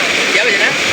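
Floodwater surging strongly through a village in Bihar after heavy rain, heard as a loud, continuous close-up rush and churn of moving water, without pauses.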